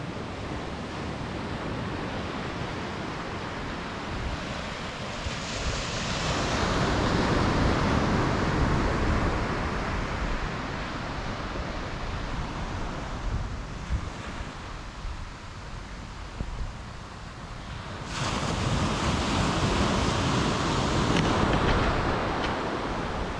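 Ocean surf washes onto a beach in long swelling surges, with wind buffeting the microphone throughout, loud and close with no voices.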